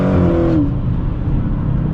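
A Dodge Hellcat XR widebody by AEC, 888 horsepower, roars loud and close as its engine revs hard, then settles into a deep steady rumble with no voices.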